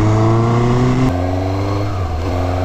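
Suzuki GSX-S 750 A2-restricted motorcycle engine pulling hard from low revs, a loud close-up drone with a gear change partway through, then the engine carries on at steady revs without talk.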